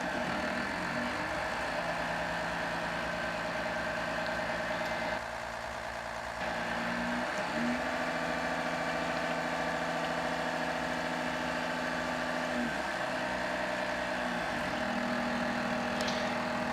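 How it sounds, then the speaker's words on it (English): A loud fuel truck engine idles in a flight simulator game near a Cessna 172, a steady droning rumble with a constant tone that shifts slightly a few times throughout. "So it's quite a loud truck."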